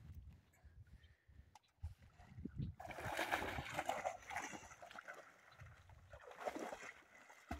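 A dog swimming for the first time in Echo Lake, Pagosa Springs, Colorado, with splashing and churning water loud and close, faint voices early on.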